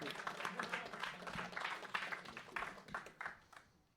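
A small crowd applauds at a medal ceremony for a Rocket League final, quiet scattered clapping that rises briefly then fades out, with faint voices underneath.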